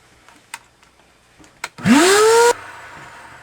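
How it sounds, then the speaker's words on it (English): A vacuum cleaner switches on close by for about a second to clean out a Maytag dryer during a repair, its motor whining upward in pitch before it cuts off, after a few clicks and knocks. "we should really vacuum this too"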